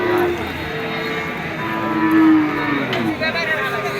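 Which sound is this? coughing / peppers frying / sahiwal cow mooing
sahiwal cow mooing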